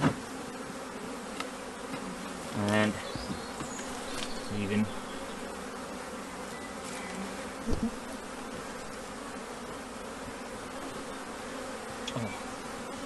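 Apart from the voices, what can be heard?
honeybee colony buzzing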